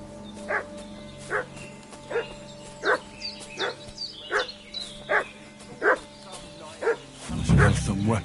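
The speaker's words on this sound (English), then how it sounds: "What's that dog making such a fuss about?" A dog barks repeatedly in a steady series of loud, close barks inside the medieval role-playing game Kingdom Come: Deliverance 2, ending with a louder burst of noise.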